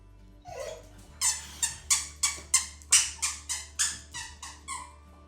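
A dog's squeaky toy squeaks about a dozen times in a steady rhythm, each squeak sharp and close, over a low hum.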